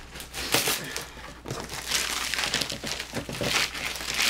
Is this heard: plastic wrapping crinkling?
yes